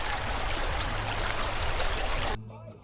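Daraitan River water rushes steadily at Sitio Manggahan, a loud, close broadband flow that holds for over two seconds before cutting abruptly to a much quieter murmur.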